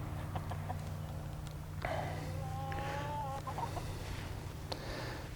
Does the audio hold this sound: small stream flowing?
no